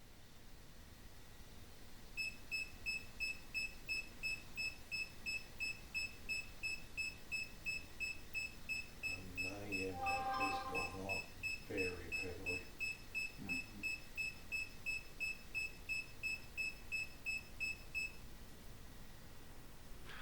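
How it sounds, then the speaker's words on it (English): An EMF meter alarm during a quiet night skywatch meditation sends out a long run of rapid, regular high electronic beeps lasting about sixteen seconds over soft background hiss, with brief faint voices in the middle. "the silence was pierced by the alarm of the EMF meter"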